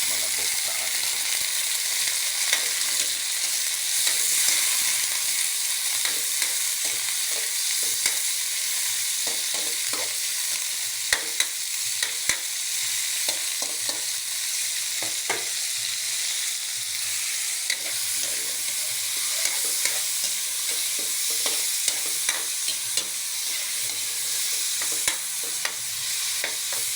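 Pork fries in a pan for ginisang bitwelas, sizzling loudly and steadily up close while a utensil scrapes and clicks against the pan in irregular stirring strokes throughout.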